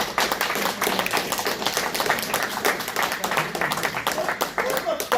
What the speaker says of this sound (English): You definitely should clap it up for Robert one more time.